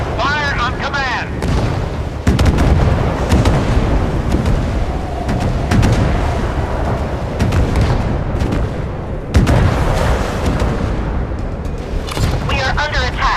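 Naval guns boom in the warship game Force of Warships, heavy blasts landing at about 2 and 9 seconds over a constant low rumble of battle, with voice callouts heard through much of it.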